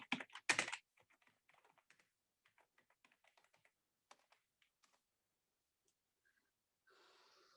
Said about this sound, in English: Suppose I'm typing the title as Diaspora Women Writers.